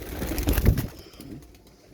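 Rampuri pigeons coo at a pigeon market in Lahore, a short burst of soft, throaty calls with wing-flutter noise up close, then fading into quieter background cooing.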